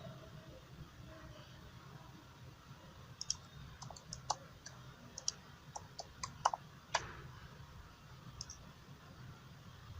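A computer mouse clicking a button on screen, a few light, sharp clicks scattered over a quiet room background.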